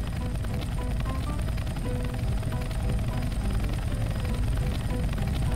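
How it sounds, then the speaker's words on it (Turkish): Helicopter in the Roblox video game droning with a steady, continuous rotor and engine hum, loud and unbroken throughout with no talk. "Adamın üstüne sürüyorum helikopteri."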